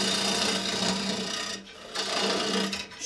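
A bowl gouge shears wood on an electric lathe, giving a continuous close rasping scrape with steady rotational texture that dips briefly twice as the cut eases.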